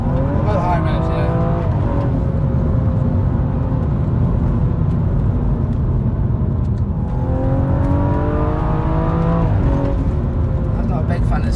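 A stage 2 tuned BMW M135i pulls hard at high revs, its engine note rising loud and close over two long acceleration sweeps, with people talking inside the car.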